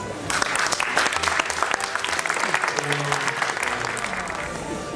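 An audience at an Italian culinary documentation centre event bursts into steady applause, sustained clapping from a sizeable crowd with a voice speaking faintly underneath.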